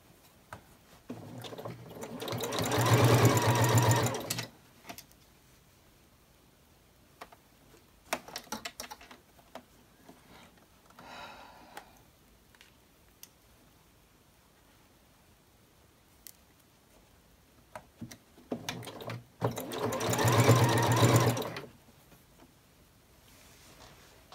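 Sewing machine stitching binding around a bag in two separate bursts of a few seconds each, close and clear, with quiet handling clicks and rustles in between.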